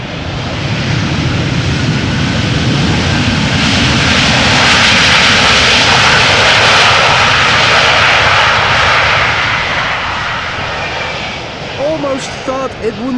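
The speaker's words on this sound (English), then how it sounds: "Almost thought it wouldn't apply reverse thrust at all" An airliner landing after rain at Amsterdam Schiphol Airport roars loudly with jet engine noise that builds to a sustained peak of reverse thrust, then slowly fades, while someone talks over it.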